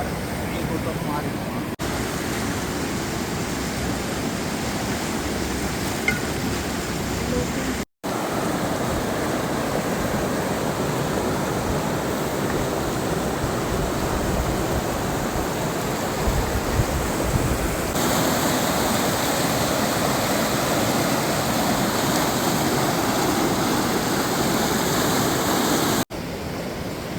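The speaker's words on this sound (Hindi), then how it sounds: "गंगा मैया बिल्कुल हमारे पास से जा रही है।" The Ganges (Bhagirathi) rushes past the bathing ghat at Gangotri in Uttarakhand, a loud, steady roar of fast mountain water filling the whole stretch, close by and continuous with no voices over it.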